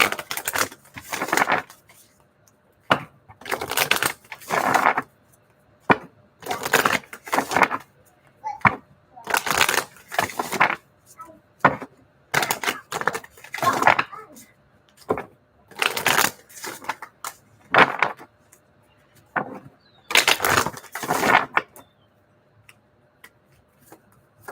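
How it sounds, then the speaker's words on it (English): Moonology oracle cards are shuffled over and over in bursts of crisp riffling and clattering card edges, each burst separated by short pauses, close and clear with no voice. "let's get some Moonology cards from your ancestors and guides."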